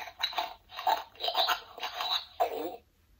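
An Adventure Force Roaring Rex toy dinosaur plays electronic chewing sounds, five rhythmic crunchy bites in quick succession, close and clear with no voices.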